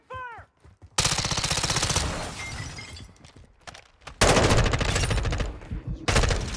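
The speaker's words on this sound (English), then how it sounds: "Taking fire." Loud bursts of automatic gunfire in Call of Duty Modern Warfare 2, long rapid volleys separated by short pauses, with a few sharp single shots at the start.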